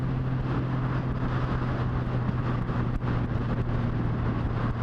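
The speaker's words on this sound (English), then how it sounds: "Getting windy now because we are crossing over from Muhu" Wind buffeting a moving vehicle on the causeway crossing from Muhu to Saaremaa in Estonia, a steady broadband roar with a low engine hum underneath, constant and fairly loud throughout with no talk.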